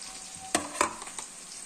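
Eggplant pieces coated in masala fry in a pan with a steady, quiet sizzle, broken by two sharper stirring clatters and a few softer scrapes.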